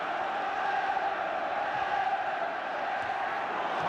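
Football crowd at Liverpool v QPR roaring steadily after a goal-mouth incident, a dense sustained stadium swell heard from a distance without letup.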